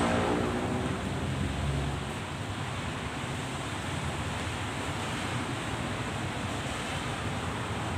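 Strong typhoon wind from Typhoon Paeng roars as continuous broadband rushing and buffeting against the microphone. A gust is loudest at the start, then the wind settles to a steady heavy roar with no voices.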